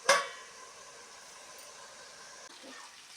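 Vegetables for vegetable pulao fry in a hot pan with a steady hiss, sharply crackling at the start and then settling into a continuous, fairly faint sizzle without talk.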